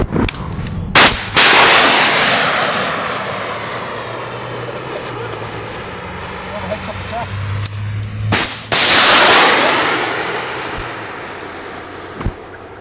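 Artillery and weapons fire during a military exercise: a few heavy, close blasts spaced seconds apart, each followed by a long rolling rumble, with a steady low engine drone underneath.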